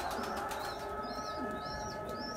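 Pigeons in a coop of about twenty birds, a steady murmur of cooing and soft calls with occasional higher chirps and wing sounds, continuous and close.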